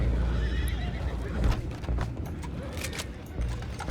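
Horses in the Red Dead Redemption 2 game whinny and snort amid clopping hooves, several animals close by with sharp neighs rising over a low rumbling background.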